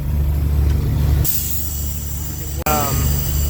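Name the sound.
truck trailer air system refilling with air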